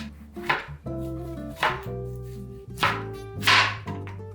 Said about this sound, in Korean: 과일을 원형으로 잘라주세요.